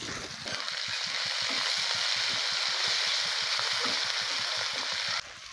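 Green chilies frying with cardamom, cinnamon, garlic, onion and ginger in a pan for chicken ghugni give off a loud, steady sizzle, with rapid rhythmic stirring scrapes running beneath it before the frying cuts off abruptly near the end.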